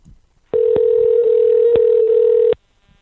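A telephone dial tone sounds alone for about two seconds, steady and loud, broken by a couple of brief clicks, then stops abruptly.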